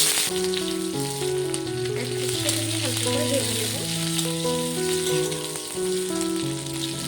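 Chopped onion and black cumin seeds frying in a small amount of hot oil, a continuous bright sizzle with crackling pops, heard under steady background music.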